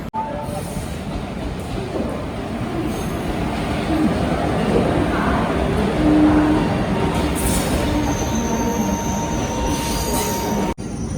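The Bihar Sampark Kranti Express rolls through Unnao Junction station with a constant heavy rail rumble and long, high metallic wheel squeals that swell near the middle and continue throughout.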